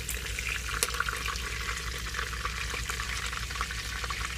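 Steaks cook in a pan with butter inside a truck, giving off a steady, close sizzle and hiss with a few small pops and no voices.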